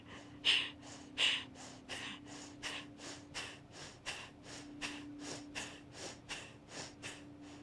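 Kriya Yoga pumping breath: a rhythmic series of about fifteen short, forceful nasal exhales, evenly spaced and close, with a faint steady hum underneath.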